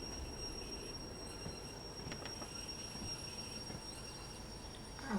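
A train rolls along rails in the railway simulator game Derail Valley, a steady broadband rumble of wheels and wagons with faint squeals and clicks, continuous and fairly close, with no talking.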